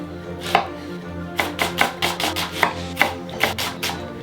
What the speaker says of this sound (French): Le couteau revient, coupe 2. Et on les mince comme ça.